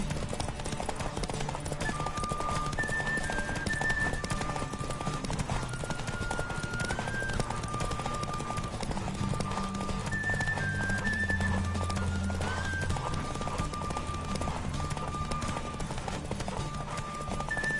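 Horse galloping steadily in The Witcher 3, a continuous rhythmic clip-clop of hooves over a running ambient music bed, with an occasional whinny.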